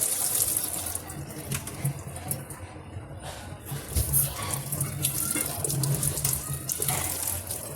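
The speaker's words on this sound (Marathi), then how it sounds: "स्ट्रॉबेरी धुवून घ्यायचं." Tap water runs steadily into a sink while strawberries are washed under it, a continuous splashing flow with faint background sounds and no speech.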